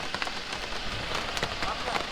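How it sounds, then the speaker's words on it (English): Light drizzle patters steadily around a walker heading toward a tunnel in Vagamon, a close, crackly wash of small drops hitting surfaces with faint irregular taps. "It's drizzling."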